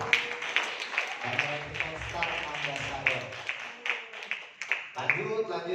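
Audience clapping during a marketing plan presentation for a training division, a steady broadband patter of many hands with sharper peaks, running under a speaking voice throughout.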